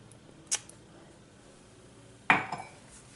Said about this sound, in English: Make sure the pan is on the stove first.